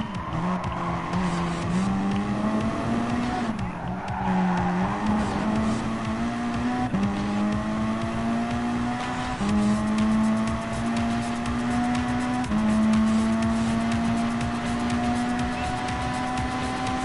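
A rally car racing in Gran Turismo Sport, its engine droning loudly and continuously as pitch climbs through each gear and drops at every shift, several repeated up-shift cycles across the run with no talk.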